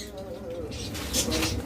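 A breeding pair of sun conure parrots calls in short, bright bursts near the end, over a low steady background hum.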